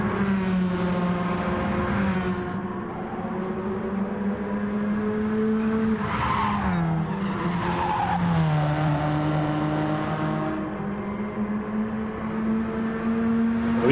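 Race car engine screaming continuously on a flying chase-cam lap, a steady loud high-revving tone that climbs and drops through gear changes, with tire noise mixed in and no talk.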